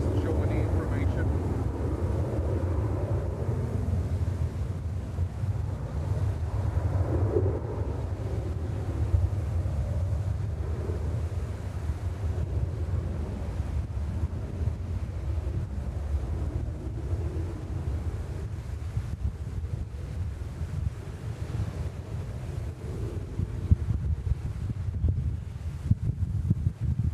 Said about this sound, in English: We have a wind gust.